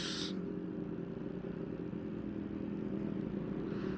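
A Yamaha MT-09 motorcycle rides past on a road near Panabo, its engine a steady close drone with a brief bright burst at the start, continuing without talk.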